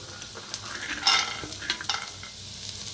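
Onion, grated coconut and peanuts roast in oil in a pan, with a soft sizzle under a few clinks and scrapes as a spoon stirs, brief and close, no talking.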